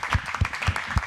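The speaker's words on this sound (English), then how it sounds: "let's give them a round of applause" Audience applause for high school basketball seniors at a Lakeview Chiefs senior-night game: a brief, moderately loud patter of claps with steady, rhythmic accents, heard alone.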